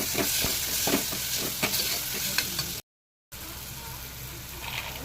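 Tomatoes with a little turmeric powder sauté in a pan, with steady sizzling and scraping stirs, broken by a short gap of silence before the sizzle resumes.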